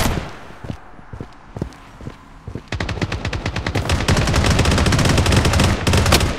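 Gunfire in the Blood Strike mobile battle royale shooter: scattered single shots give way to sustained rapid automatic bursts, loud and close, with several weapons overlapping toward the end.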